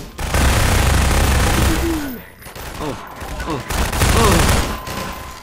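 Gunfire in the video game Half-Life as boxes are shot apart, loud sustained rapid bursts with short pauses, someone speaking and exclaiming over the shots.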